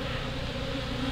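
Bees swarm around an open hive while a beekeeper works it with a hive tool to collect pollen and propolis, producing a steady, close, dense buzzing hum with no pauses.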